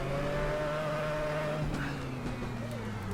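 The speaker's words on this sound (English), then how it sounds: "Shouldn't really be jabbing the throttle like that" A race car engine drones steadily at high revs with a shifting pitch, the throttle being jabbed partway through, loud and continuous throughout.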